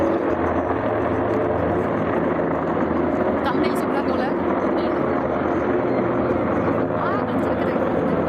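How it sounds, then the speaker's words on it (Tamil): Military helicopters fly over a national day air show in Riyadh, making a steady, loud rotor and engine drone for the whole stretch. A crowd murmurs faintly beneath it. "அடுத்ததாக போர் ஹெலிகாப்டர்கள் வந்து 1 by 1 இந்த மாதிரி வந்துட்டு இருந்தது."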